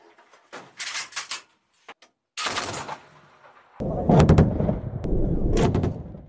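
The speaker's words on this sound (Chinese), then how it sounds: "训练中，新战士需要使用车载机枪对200米、150米、100米外的隐险目标进行射击" Machine gun mounted on an armored anti-riot patrol vehicle fires in several sharp bursts during military recruit training at targets 100 to 200 meters away. Loud and close, with short pauses between bursts.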